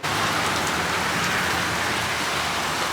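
Steady rain falls as a tornado approaches, a dense continuous hiss of drops striking surfaces, loud and close without pause for the full stretch and no voices.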